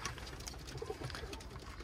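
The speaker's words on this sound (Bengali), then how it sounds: "সকাল সকাল চিন্তা করলাম কবুতর উড়াবো" Pigeons, including young birds, cooing softly in a loft in the early morning, with low repeated coos and faint background rustle, fairly quiet and with no talking.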